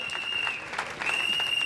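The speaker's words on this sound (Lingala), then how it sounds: "Acclamons l'arrivée de notre secrétaire général." Crowd applause greeting the arrival of the UDPS secretary general, Augustin Kabuya, a short dense burst of clapping with a sustained whistle-like tone over it and some voices mixed in.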